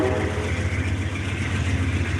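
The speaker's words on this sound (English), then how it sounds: "No, that's the Amtrak train." An Amtrak passenger train rolls past at night, a loud continuous rumbling roar with steady low drone and a brief faint whine early on, no talking.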